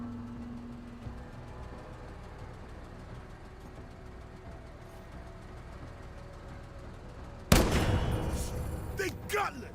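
Dense gunfire erupts in the Counter-Strike video game, a sudden loud burst of rapid shots after a long low rumbling stretch, continuing with crackling impacts to the end.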